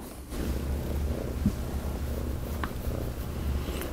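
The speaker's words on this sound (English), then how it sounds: "you can hear Quasar there purring" Quasar, a cat, purrs in a low, continuous rumbling drone, close and fairly soft, steady throughout with no voices present.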